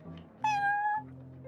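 A cat meows once in the Genshin Impact video game, a clear, rising-then-falling tonal meow lasting about half a second over a soft background of music or ambience.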